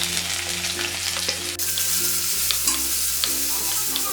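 Chopped shallots fry in hot oil in a pan, giving a steady, loud, close crackling sizzle with light stirring scrapes on top and a low hum underneath.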